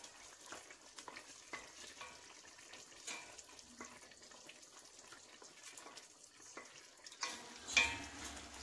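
Peppers and tomatoes fry steadily in a pan with a soft, continuous sizzle and occasional stirring scrapes, with a louder splash of liquid near the end.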